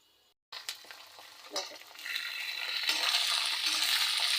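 Peanuts and leaves sizzling as they fry in a pan, a brief clatter as they go in, then a steady hiss and crackle that builds and holds, close and fairly quiet.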